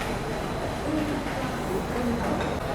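Indian Railways Prayagraj Special train pulling out of Jhansi railway station, a low steady rolling rumble with faint station ambience and murmured voices in the background.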